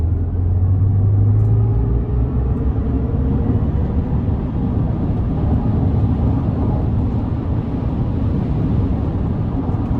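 2024 Chevrolet Silverado EV 4WT pickup accelerating at full throttle, a low steady rumble of road and wind noise heard from inside the cab with a faint rising electric whine early on.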